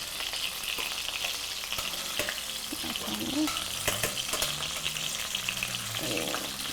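Smelt fish frying in a pan, a continuous crackling sizzle with scattered pops and spatters, close and steady throughout, with faint background sounds beneath.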